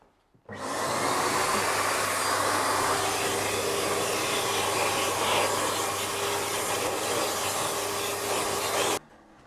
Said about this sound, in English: Then we can hoover out the fireplace.